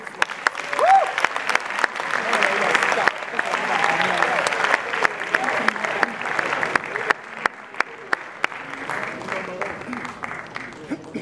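Audience applause at an International Day of Peace ceremony: a dense, sustained crowd of clapping hands that fills the room throughout, with a voice faintly underneath.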